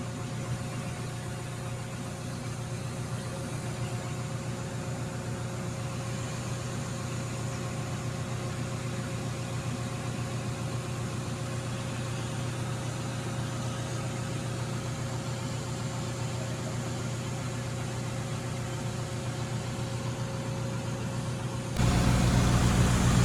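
A tractor engine running steadily while reversing, a constant low drone that holds even and moderately loud before rising slightly near the end.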